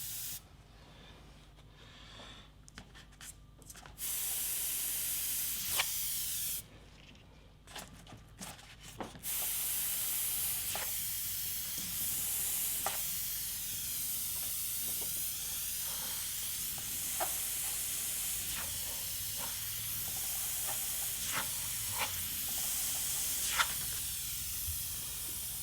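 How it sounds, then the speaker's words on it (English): Paint hisses from an airbrush sprayed through a microdot template, a close, continuous fine spray with short bursts and breaks, several sharp clicks, and quiet pauses between passes, with no talking. "Now continuing on with some freehand airbrushing"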